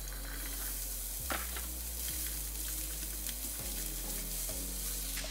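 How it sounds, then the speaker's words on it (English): Onions sweating in olive oil in a pan over lowered heat give a steady, close sizzle with occasional stirring scrapes, alone without any talk. "You're just gonna sweat out the onions."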